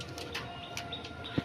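Pet pigeons of the Lakka breed, kept at a home loft, coo softly amid faint bird chirps and rustling, with one brief louder coo near the end.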